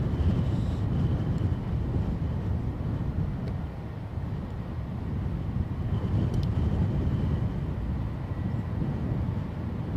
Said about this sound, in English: So our Bombardier, which you'll see in shot now, Challenger 350, off to Cannes.